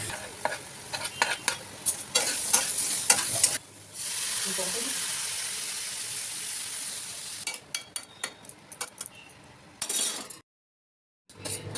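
Vegetable ghyat with Malabar spinach and beans cooks in a pan, stirring scrapes and clinks at first, then a steady sizzling hiss, followed by more scattered stirring taps and a short silence.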